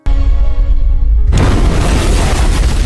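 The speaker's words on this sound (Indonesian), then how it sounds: "Wagah pun melihat dari kejauhan kalau perahu bot itu meledak" A speedboat blows up in a film scene with a sudden loud boom at about 1.3 seconds, followed by a dense, roaring rumble of debris and fire that continues to the end. A quieter low hum comes before the blast.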